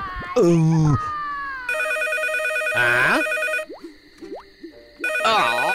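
A telephone rings with an electronic tone in repeated bursts in an animated children's cartoon, interrupted by excited voices and swooping sound effects.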